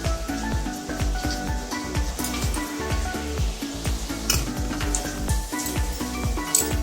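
Leftover oil from frying katla fish, topped up with fresh oil, sizzles in a pan for doi katla, making a close, continuous crackling hiss with bursts of spitting pops and faint utensil clinks.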